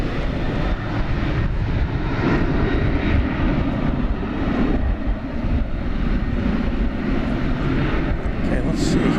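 A Qatar Airways jet takes off at DFW Airport with a continuous, loud, rumbling engine roar that stays strong throughout, and a voice talks over it.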